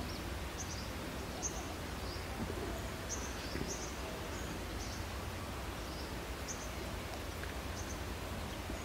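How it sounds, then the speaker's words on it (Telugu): Small birds chirp outdoors in a calm setting, with short high calls repeating irregularly over a steady hiss of background noise. The calls are faint and distant, and no one speaks. "ఇక్కడ పక్షులు చక్కగా చూడండి,"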